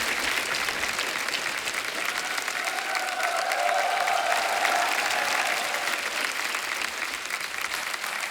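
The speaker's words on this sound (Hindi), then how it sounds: "जोरदार तालियां हो जाएगा" A studio audience on a talk show claps steadily to welcome guests, a dense continuous applause heard alone and at an even level throughout.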